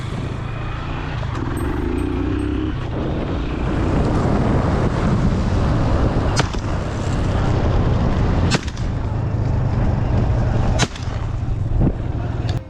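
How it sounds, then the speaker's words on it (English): Rifle shots fired at a wild boar on a red dirt trail ring out as a few sharp, loud cracks spaced seconds apart over a constant roar of wind and outdoor rumble. "2 quick shots rang out, and the story of this troublemaker comes to an end."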